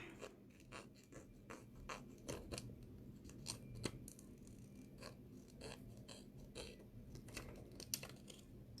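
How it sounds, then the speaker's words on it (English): Scissors snipping around stamped acetate sheet, a quiet series of repeated crisp cuts and clicks in an irregular rhythm, close up with no talking. "we're just going to cut those out around the outside of the black there"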